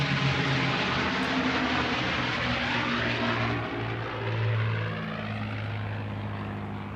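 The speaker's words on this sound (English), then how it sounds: "From the right, Marco is bringing Cheryl Lynn back for a 4-point roll." A P-51 Mustang propeller aircraft performs at an air show, its engine a loud, steady drone that holds throughout while pitch and level shift slightly as the plane moves past.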